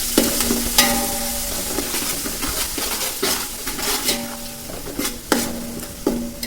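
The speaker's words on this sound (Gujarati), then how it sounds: "મરચાં ને લીમડું મસ્ત હળહળી ગયું" Chillies, ginger and curry leaves frying in a pan give a steady close sizzle, broken by repeated clanks and scrapes of a spoon stirring against the metal, with no talking.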